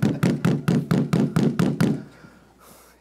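About eight steady, evenly paced knocks on a wooden surface during a church sermon, close and fairly loud, with a faint murmur of the room after they stop.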